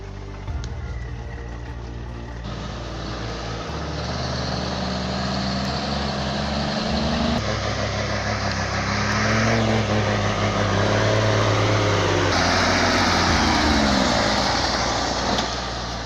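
A truck engine labours hard on a winding mountain road while belching black smoke, roaring loud and near with abrupt shifts in pitch as the load and gears change, growing rougher toward the end.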